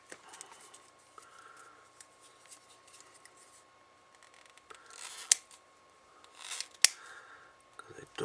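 Scissors or a blade cutting through the casing of a radio programming cable, with soft snips and crinkly handling, and a few sharper clicks near the end, quiet and close.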